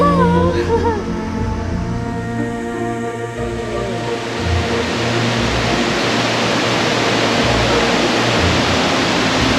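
Josephine Falls, swollen after rain, pours in a loud, steady broadband roar of rushing water that fills the scene, with a few brief tonal sounds at the start.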